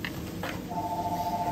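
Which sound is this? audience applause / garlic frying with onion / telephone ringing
telephone ringing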